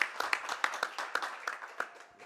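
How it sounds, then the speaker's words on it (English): A small group claps to fire up a hip-hop debate show in the studio: a quick run of sharp, uneven hand claps over about two seconds, close and moderately loud, trailing off toward the end. "But clap it up."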